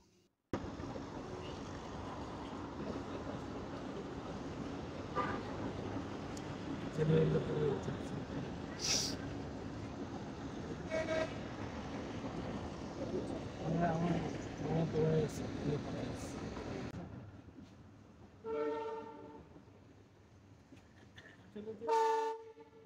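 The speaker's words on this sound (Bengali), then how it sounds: "ইব্রাহিমাবাদ জংশন থেকে সিরাজগঞ্জ এক্সপ্রেস ট্রেন তার যাত্রা শুরু করল" Sirajganj Express train pulling out of Ibrahimabad Junction in Bangladesh, a steady low rumble of carriages throughout with a few short horn toots, then a quieter stretch broken by brief tonal bursts near the end; people talk in the background.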